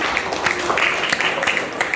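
A class claps briefly for a student in a school lesson, with a quick patter of uneven hand claps that lasts a couple of seconds.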